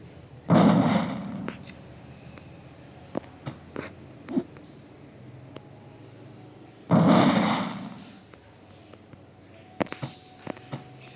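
Two loud bursting bomb explosions in the video game Bomber Friend, several seconds apart, each fading out, with scattered clicks and taps between them over a low steady hum.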